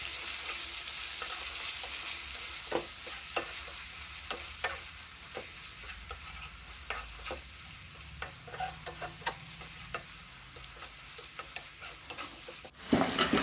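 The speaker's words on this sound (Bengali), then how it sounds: "এর মধ্যে আমি ম্যারিনেটের মশলাটা দিয়ে দেব আর তেলের সঙ্গে খুব ভালোভাবে ভেজে নেব" Marinade spice mix frying in oil for a white chicken stew keeps up a steady sizzle, broken by repeated sharp scrapes and clicks of stirring at an uneven rhythm.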